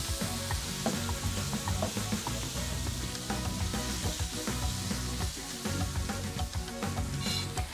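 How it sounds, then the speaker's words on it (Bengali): Spices with curry powder and red chili powder fry and are stirred over onions for chana bhuna, a dense, constant sizzle threaded with busy scraping and clinking of the spoon against the pan, close and unbroken. "এগুলো দিয়ে মশলাগুলোকে আবারও ভালোভাবে কষিয়ে নিচ্ছি"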